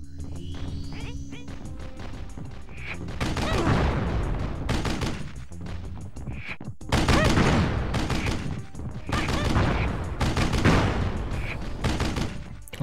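Rapid bursts of gunfire from the video game Army Men: Major Malfunction, loud and dense, with repeated volleys that crowd the whole stretch and little pause between them.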